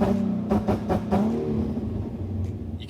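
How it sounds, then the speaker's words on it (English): A tuned Nissan 350Z with two-step launch control, its engine held against the limiter and barking out a quick series of sharp, rhythmic pops early on, then settling into a lower, uneven rumble. "show you guys how to use two-step. Basically you put it in first gear, you want the handbrake off and you want your foot on the clutch"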